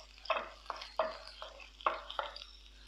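Garlic, green chili and ginger stirred in a frying pan while preparing idli masala, heard as four or five soft scraping stirs with faint sizzling between them, close and fairly quiet.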